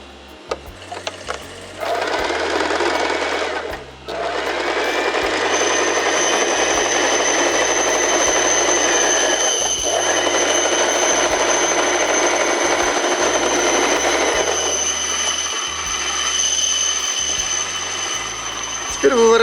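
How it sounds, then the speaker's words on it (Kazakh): A sewing machine stitches a fabric face mask, running in long steady bursts with a whirring motor hum and rapid needle clatter, close and loud, with a couple of brief pauses between runs. "Және мына жағын тігу керек мінекей."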